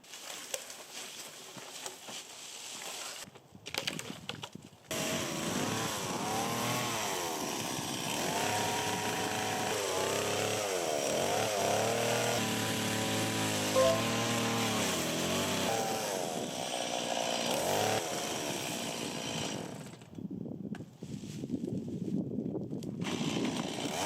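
A chainsaw runs steadily at close range for about fifteen seconds, bogging and surging without reaching full revs, then cuts out, leaving quieter outdoor background.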